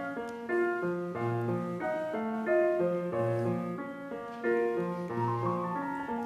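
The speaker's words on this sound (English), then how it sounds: "What you just heard was a completely unexpressive mechanical rendition of the piece." A computer-controlled grand piano mechanically plays a Chopin Nocturne, with clear, evenly weighted notes over a repeating low accompaniment, moderately quiet and steady with no voices.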